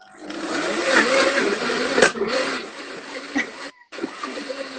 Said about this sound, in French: Ah, j'ai pris le grand mixeur.